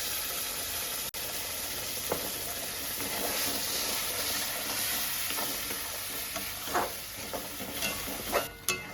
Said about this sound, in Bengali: এবার আমি এতে পটলের খোসা বাটাটা দিয়ে দেবো।